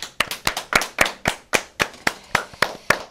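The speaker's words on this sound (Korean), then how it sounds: "우리가 박수로 응원 한번 하겠습니다" A handful of people clap slowly and crisply in a steady rhythm, roughly a dozen distinct sharp claps close by with no talking over them.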